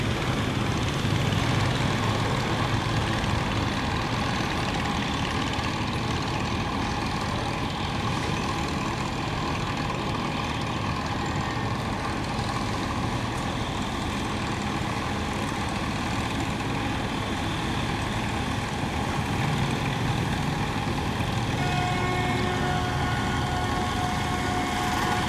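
Steady, loud engine drone of a boat passing close along a riverbank, with a continuous broadband rumble and hum that holds evenly throughout and no speech.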